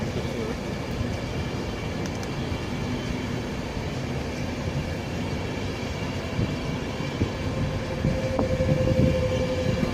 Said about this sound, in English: There's certainly a lot of trains go through here.